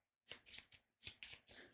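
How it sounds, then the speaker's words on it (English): A deck of game cards being shuffled: several quick, crisp riffling bursts in an uneven rhythm, close and quiet, with no talking. "We shuffle the deck."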